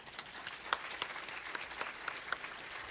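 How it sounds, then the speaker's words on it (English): Audience applause at the Lincoln Academy's 25th anniversary ceremony honoring laureates, a moderate, steady clatter of many hands clapping with scattered sharper claps, heard from some distance in a large hall. "And my next cue card said, and now for the applause, if you would like to do that in unison."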